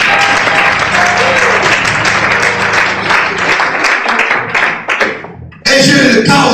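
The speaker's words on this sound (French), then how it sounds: "Applaudissons Jésus dans le cœur." A church congregation claps together in sustained, dense applause that dips briefly near the end before a loud fresh burst, with voices mixed into the clapping.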